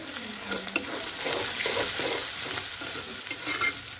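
Well-browned onions sizzle steadily in a pan as they are stirred, a dense, continuous frying hiss with occasional scrape-like clicks and no speech.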